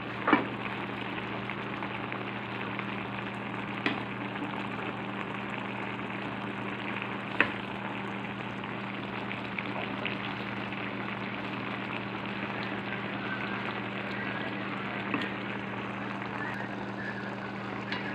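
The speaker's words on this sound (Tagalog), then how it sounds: "kumukulo na siya" A pot of vegetable soup boils on a stove, giving a steady bubbling hiss with a low hum beneath it and a few sharp clicks and pops.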